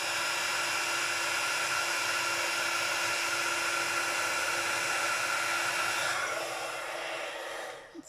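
A heat tool melts embossing powder during heat embossing, a loud steady blowing whir like a hair dryer running alone for several seconds before cutting off near the end.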